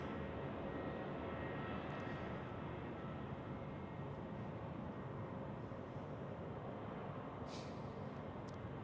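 An Airbus A319 airliner at Zurich Airport gives a steady, broad engine roar that holds loud and constant for the whole stretch, with no talking.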